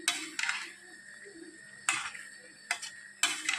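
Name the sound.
stirring mixed vegetable paneer curry in a pan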